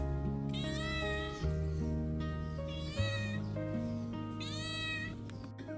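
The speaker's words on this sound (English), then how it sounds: "Apparently, they keep cats here at the temple." Temple cats at a Vietnamese temple meow three times in a row, plaintive, wavering cries over a steady, droning background hum.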